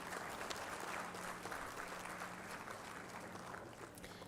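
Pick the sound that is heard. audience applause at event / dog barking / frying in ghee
audience applause at event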